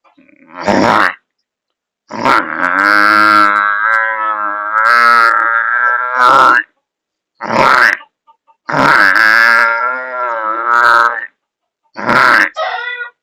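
A man imitates a buffalo with long, low, groaning bellows broken by short throaty grunts, loud and close, with silent gaps between calls.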